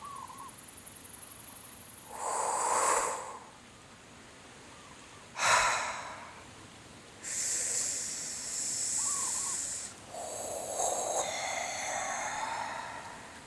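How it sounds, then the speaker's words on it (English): Breath sounds made during a meditation practice: several separate breathy bursts, hissing exhales and airy whooshes, some longer and sustained, moderately loud and close, with no talk and quiet gaps between them. "These vibrational sounds that we do with the breath"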